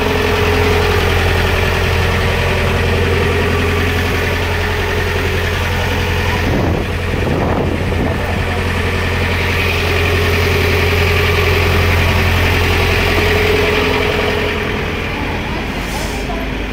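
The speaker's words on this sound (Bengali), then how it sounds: "এটা হলো ইঞ্জিন," A Darjeeling toy train locomotive idles with a steady, low, continuous hum and mechanical vibration, droning evenly throughout at close range.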